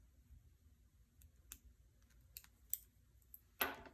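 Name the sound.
clipping coat pocket seam allowance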